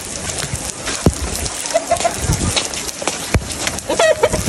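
Heavy rain pours down steadily over a rooftop pigeon and chicken coop, a constant close hiss under clucking hens, a few sharp knocks and flutters.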